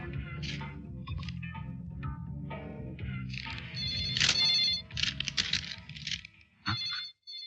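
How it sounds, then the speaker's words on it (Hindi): A phone ringtone plays as a busy melodic electronic tune with bright tones. It is loud and near and runs for several seconds, with no talking. "तेरा फोन था"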